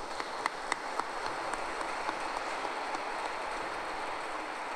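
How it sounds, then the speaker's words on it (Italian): Clapping from a congregation inside a church, an even, fairly soft patter of many hands with a few sharper claps standing out. "un applauso glielo possiamo fare"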